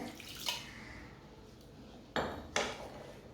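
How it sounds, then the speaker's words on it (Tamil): Water splashes and trickles in a few short bursts into ground sorghum in a vessel, loudest in two quick pours near the end, with quiet room noise between. "தண்ணி ஊற்றி நம்ம வந்து இதை நல்லா கலந்து"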